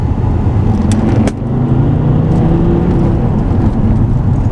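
A car engine roars loud and close, a steady heavy drone with a brief dip before building again, no voices.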